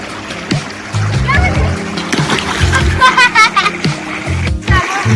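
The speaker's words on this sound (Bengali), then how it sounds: "বন্যার সময় ঠিক যে এইরকম জলের কুলকুল আওয়াজ হতো, ঠিক সেই রকমই কুলকুল আওয়াজ।" Splashing and sloshing water from a fast mountain stream in Himachal, heard close with people, including a child, talking over it.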